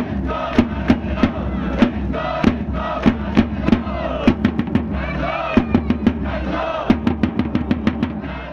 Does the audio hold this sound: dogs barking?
no